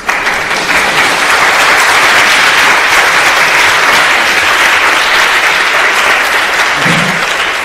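A conference audience breaks into loud, continuous applause after a live on-stage demo talk, a thick, even clatter of many hands clapping close and strong throughout.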